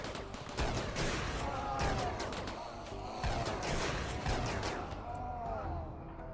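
Mini turrets fire in RimWorld, loosing rapid overlapping volleys of distant, moderately loud gunfire with crashing impacts in a steady rattling barrage.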